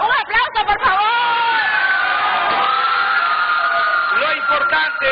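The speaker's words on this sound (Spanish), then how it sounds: "¡Un aplauso, por favor!" A studio audience on a Spanish-language TV cooking show cheering and whooping loudly, with excited shouting voices dominating and steady crowd noise carrying on throughout.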